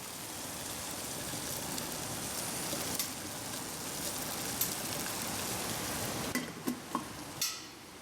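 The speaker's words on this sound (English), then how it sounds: "You can see that boiling" Steady bubbling and hissing of water boiling on a tea-candle-powered stove, a dense continuous rush with a few small clicks and knocks near the end.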